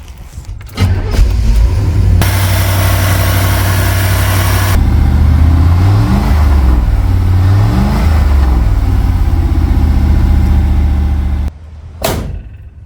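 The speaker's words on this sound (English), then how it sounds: "Now let's start the car." A Chevrolet Camaro IROC-Z starts after an air filter change: a cranking whir catches into a loud, close idle with a few revs rising and falling, then the engine cuts and a door thuds shut.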